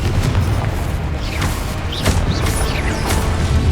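Confringo fire spell in Hogwarts Legacy going off in loud booming bursts, several blasts with crackling impacts over a dense low rumble of game combat and music.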